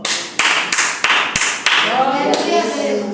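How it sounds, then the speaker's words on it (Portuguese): A church congregation claps in praise during a home worship service, a series of loud, sharp, regularly spaced claps, with a voice speaking over the final second. "As palmas que louvam o Senhor Jesus."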